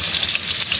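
Marinated carp cooks over heat with a steady, loud hiss and sizzle, broadband and unbroken, no voices.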